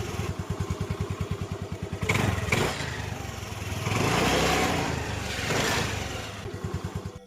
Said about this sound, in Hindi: तभी उसे दूर से एक आदमी एक स्कूटर पर आता हुआ दिखता है।